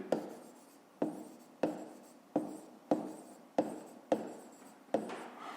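Pen or pencil strokes on paper while working a fifth-grade maths exercise, eight sharp scratching strokes at a steady rhythm roughly every 0.6 seconds, close and clear with no voice over them.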